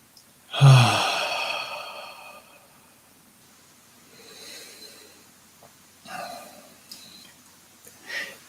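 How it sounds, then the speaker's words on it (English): A slow, deep exhale during a guided meditation practice, loud and close, is followed by quieter breaths and soft rustles, with no speech. "Let's take another deep breath."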